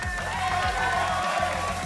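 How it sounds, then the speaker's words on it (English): Audience applause and cheering for the third-place team at the A2RL Grand Finals autonomous race car event, a steady wash of crowd clapping under booming music and an announcer's voice. "Give them a huge round of applause to make their way there for the third place here of the A2RL Grand Finals"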